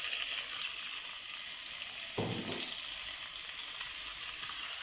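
Tomatoes frying in a pan, a constant bright hiss of sizzling oil with one brief clatter of stirring partway through, close and alone without voices.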